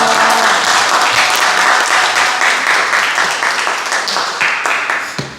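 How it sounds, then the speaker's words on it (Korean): Loud, sustained applause from a large church congregation welcoming a guest pastor, many hands clapping together and slowly tapering off. "할렐루야 하면 큰 박수로 환영하도록 하겠습니다."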